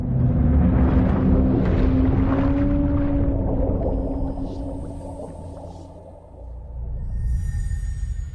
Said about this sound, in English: It's on the beach, so it has all the beached whales, and the waves lapping on the shore make it hauntingly beautiful